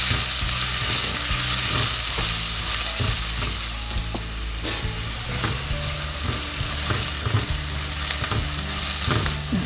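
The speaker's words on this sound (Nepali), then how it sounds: "र प्याजलाई चाहिँ राम्रोसँग यसमा अलिकति हल्का ब्राउन हुने गरी फ्राई गरौँ" Chopped onion fries in a pan for a curry, a steady loud sizzle with repeated stirring scrapes and clatters throughout, no talking.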